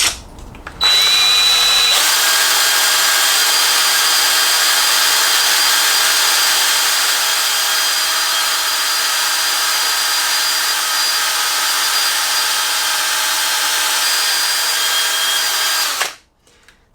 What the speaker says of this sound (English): drill the pocket hole,